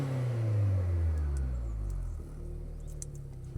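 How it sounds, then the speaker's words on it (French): A small car engine revs up and then drops back, the low rumble falling in pitch before settling into idle, fairly close with no talk over it. "tu nous mets un coup de gaz ou deux"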